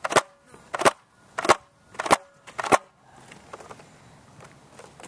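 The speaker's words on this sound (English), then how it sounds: "So I'll fire off those bullets now." A Nerf gun fires foam bullets in five sharp, close pops spaced roughly half a second apart, each crisp and loud, followed by quieter scattered clicks and rustling.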